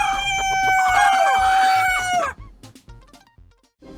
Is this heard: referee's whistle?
no